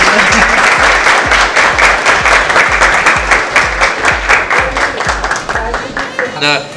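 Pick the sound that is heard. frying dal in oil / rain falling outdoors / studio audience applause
studio audience applause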